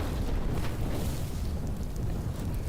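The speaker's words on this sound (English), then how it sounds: "A powerful explosion shook the building and almost caused me to fall on my butt." A powerful explosion shakes a building, heard as a sustained deep rumbling roar that stays loud and even throughout with no voices.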